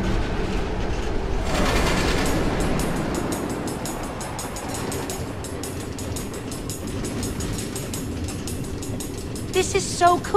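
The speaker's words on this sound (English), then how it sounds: "Automated train tracks running all through the Nether, connecting all the different order members?" In the Minecraft Story Mode video game, an automated train runs along tracks through the Nether, giving a loud, continuous rolling rumble with rhythmic clatter that lasts throughout.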